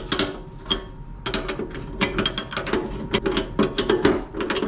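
Large wrenches work on bolts, giving a rapid run of close, crisp ratcheting clicks with a metallic ring, irregular in rhythm and steady in loudness throughout.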